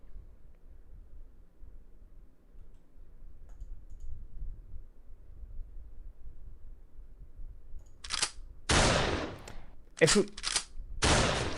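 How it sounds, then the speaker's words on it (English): Gunfire in a video game: a long near-silent stretch, then a sudden run of sharp, loud shots in quick bursts near the end, after a few quiet spoken words. "One hour of silence broken by gunshots."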